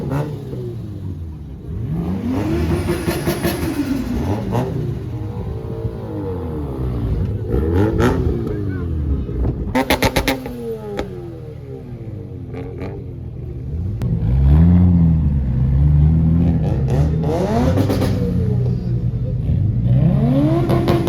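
Japanese sports cars, a Mazda RX-7 and a Toyota Supra, rev their engines repeatedly amid a busy street crowd during a Formula 1 weekend in Montreal, loud rising and falling engine revs mixed with crowd noise and talk.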